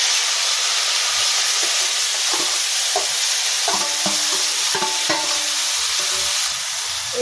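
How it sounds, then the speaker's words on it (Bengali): Kachki fish fry in hot mustard oil in a wok, a steady loud sizzle and hiss running throughout with scattered clinks and scrapes of stirring, no voices. "তেল গরম হয়ে গেছে, মাছগুলো কড়াইতে দিয়ে দিব।"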